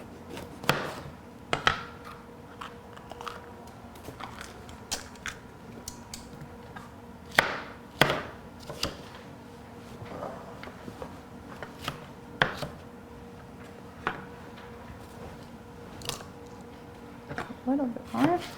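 Knife chopping bell pepper on a cutting board for a superfood blender recipe: irregular sharp close taps spread through the clip, under a steady speaking voice.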